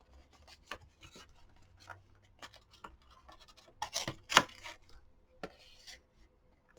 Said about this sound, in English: They are waxed on one side, so I like to tear off the wax part of them.